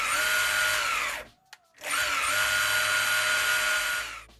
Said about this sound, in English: we then tested out the board using the VX1 remote controller, and as you can see right here, it's loud and powerful